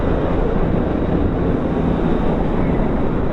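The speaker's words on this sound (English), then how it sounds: "The minute wind hits you, I like this." Wind roars steadily and loudly past a motorcycle rider on a highway through central India, a constant broadband rush buffeting the microphone throughout.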